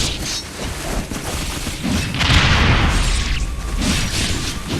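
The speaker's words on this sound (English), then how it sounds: "Damn, those explosions are slowing down the game." Repeated booming explosions and crashes erupt in the Ninja Gaiden 3 video game, dense overlapping blasts and thuds with a heavier burst midway through.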